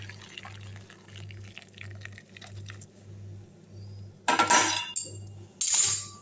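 Boiled potatoes and their cooking water poured into a strainer: after a quiet stretch with a low steady hum, two loud splashing gushes of water, the first longer, arrive close by, alone without talk.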